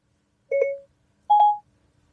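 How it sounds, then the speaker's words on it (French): Two electronic dialing tones sound close and clear from a Tesla Model 3 or Model Y as the car dials a phone number through Siri, each short tone separated by a brief pause, with no talk. "Et donc la voiture, là, compose le numéro de Théo"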